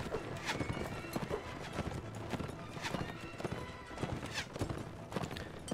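Cavalry horses gallop in the video game Mount and Blade Warband, with dense, continuous hoofbeats and occasional whinnies forming a busy, steady battle clatter.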